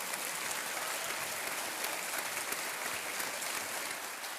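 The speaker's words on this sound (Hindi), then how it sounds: "एक बार तालियां बज जाएं इनके लिए" Studio audience applause on the Hindi quiz show KBC, an even, fairly faint wash of clapping throughout.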